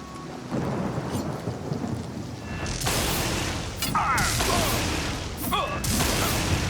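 Lightning spell strikes in the video game Oblivion Remastered, sharp loud crackling blasts that burst in two or three times amid rumbling noise, with a voice speaking between them.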